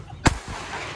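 A single loud firecracker bang goes off close by on open ground, sharp and brief with a short rumbling tail, then fades into quiet background.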